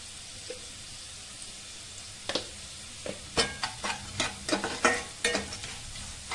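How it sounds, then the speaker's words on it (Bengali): Vegetables frying lightly in a pan for a vermicelli pulao, a low sizzle that breaks into a run of quick, rhythmic stirring scrapes and clatters in the second half, close with no voices. "দেখো হালকা ফ্রাই হয়ে গেছে, একটু নুন দেবো"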